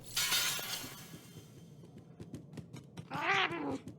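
A cat meows loudly and close by in the Murdered: Soul Suspect video game, a short drawn-out cry near the end that follows a sharp crash and a patch of soft clicks.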